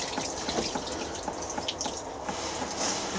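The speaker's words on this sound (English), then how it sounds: "I'm just going to give it a really good soaking." Water pours and splashes onto a sand bed on an allotment, soaking it. The sound is a continuous close trickle and spatter with small uneven bursts and no voices.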